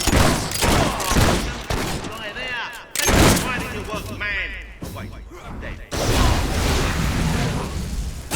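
Gunfire in the video game Fable III, with rapid bursts and volleys of shots and crashing impacts over several seconds, mixed with game voices and music.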